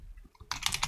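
Rapid clicks of a computer keyboard as a command is typed on an Ubuntu system, a quick close flurry of keystrokes following a moment of quiet.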